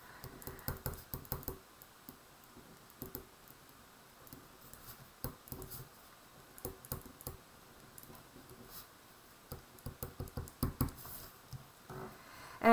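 Fingers typing out a formula on a computer keyboard, soft, close clicking in irregular bursts with short pauses, steady and quiet throughout.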